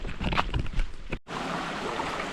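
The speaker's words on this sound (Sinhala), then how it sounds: "අපිට හම්බුණා ලස්සන වතුර පාරක්." A forest stream flows with a steady broadband rush after a brief cut, following some louder rustling handling noise, with no voices.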